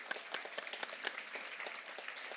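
Audience at a Grade 4 school celebratory assembly claps for an athletics award recipient, a dense, steady patter of many hands with no voices, moderately close and fairly quiet throughout.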